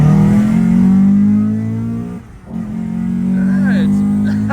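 A naturally aspirated Subaru FA20 2-liter engine in a car in Japan revs hard at full throttle, a loud, close, steady drone that dips briefly and then climbs again; a voice is heard under the engine.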